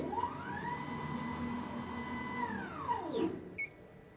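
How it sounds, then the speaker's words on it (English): A laser cutting machine's motorized work table lowering, giving a steady mechanical whine with tonal harmonics that holds, then sweeps down and stops, followed by a brief short beep; no talking. "To do this, you want to move your work table down."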